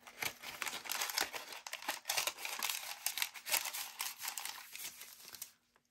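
Crinkly rustling as vellum journal pages and paper cards are handled and flipped, a close, continuous run of crisp crackles and soft rustles.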